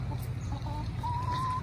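Chickens in an edible garden under an apple tree let out a few soft clucks and short calls over a steady low outdoor hum, fairly close but quiet.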